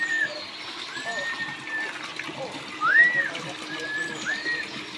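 Cold mountain water flows and splashes steadily close by, forming a continuous liquid wash, with rising whistle-like tones and faint voices over it.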